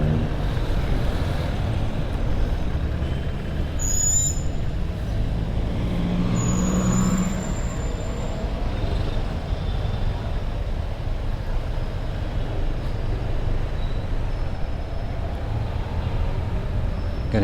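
Rush-hour road traffic in Angeles City heard from inside a rider's helmet, a steady close roar of engines and wind with brief high brake squeals, no talking.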